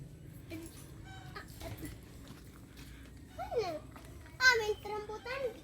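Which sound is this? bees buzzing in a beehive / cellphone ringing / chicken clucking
chicken clucking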